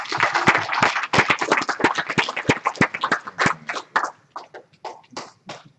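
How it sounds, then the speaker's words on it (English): A crowd applauds with dense, fast clapping that gradually thins out to a few scattered claps near the end. "I think everybody should give you a round of applause for how hard you worked"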